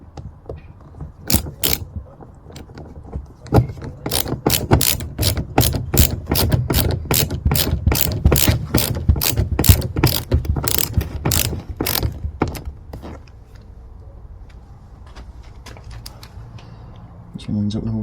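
A hand ratchet drives screws into an MG ZS EV door latch, producing a long run of sharp, rapid clicks in bursts, loud and close, tapering off toward the end with a faint voice nearby.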